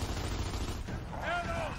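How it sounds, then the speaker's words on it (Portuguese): Sustained gunfire from Gears Judgment fills the short stretch as a dense, loud burst of shots, with a brief tonal whine rising near the end over the constant noise. "eu tô atirando nele"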